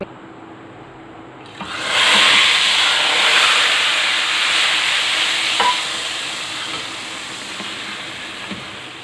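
Hot oil tempered with Kashmiri red chili hits a pot of chicken nihari, bursting into a loud, steady sizzle that starts abruptly and hisses on for several seconds before easing slightly.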